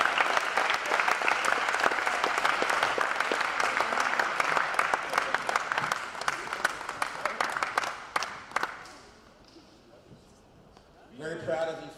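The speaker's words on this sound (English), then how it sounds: "Let's clap it up for them." An audience at a spring college signing ceremony gives loud, steady applause for about eight seconds. The clapping then thins out and fades, and a voice speaks briefly at the end.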